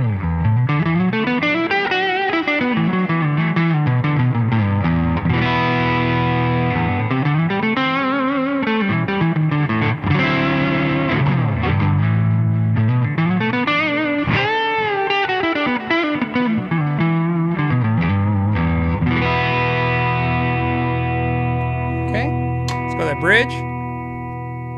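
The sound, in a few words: D'Angelico Premier Mini DC electric guitar, neck pickup, OD-11 overdrive distortion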